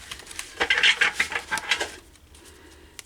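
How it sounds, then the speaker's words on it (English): Oversized tarot cards are shuffled by hand in a short burst of crisp riffling and slapping for about a second and a half, then quiet. "Let's take a moment to shuffle the cards"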